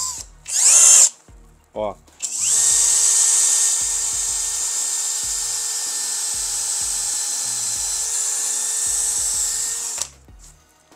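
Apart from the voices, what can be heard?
brushless drill driver drilling wood with a thin bit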